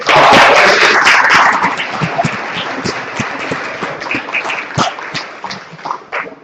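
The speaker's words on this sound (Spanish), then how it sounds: "Que se oiga más fuerte el aplauso para el doctor." Audience applause for a doctor at the close of a public administration diploma session in Mexico. The clapping is dense and loud at first, then thins and fades into scattered individual claps.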